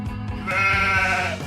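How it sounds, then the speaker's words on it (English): A goat bleats once in a drawn-out, wavering call, close and fairly loud, with a lower grunting onset before the bleat rises and holds, heard alone without talk. "This is a goat."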